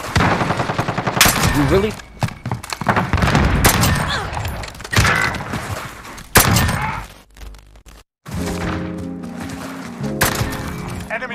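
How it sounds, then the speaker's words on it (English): Video game cluster strike with dense bursts of rapid gunfire and booming explosions, loud and near, briefly dropping out before a sustained rumble, with a voice speaking over the action. "Cluster strike incoming."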